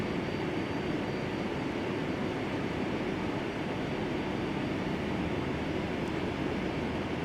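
QualityWings 757-200 engines in a flight simulator game cruising on a flight to Tegucigalpa, Honduras: a steady broadband roar that holds even and unbroken throughout, with no talk.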